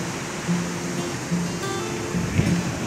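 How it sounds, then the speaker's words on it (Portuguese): Strong sea waves break on rocks at Praia da Foz in Portugal, making a steady, loud, broadband roar of surf with faint tonal hum and scattered bursts throughout. "Forte esse mar."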